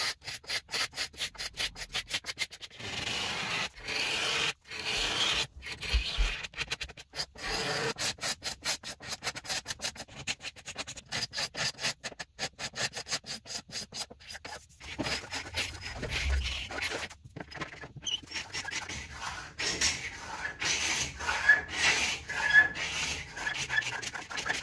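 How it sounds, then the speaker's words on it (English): Someone strips and scrapes the finish off a pressed-wood furniture top, producing rapid, repeated rasping strokes in uneven bursts with brief pauses, close and fairly loud, with no speech. "I'm going to continue stripping the rest of the top and see what I can do."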